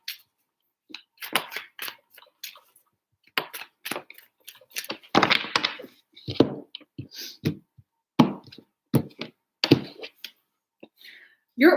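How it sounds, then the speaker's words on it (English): Tarot cards being shuffled by hand in a series of quick, crisp riffling and slapping bursts, close and fairly loud, with pauses between and a voice talking intermittently. "Three shuffles for Gemini."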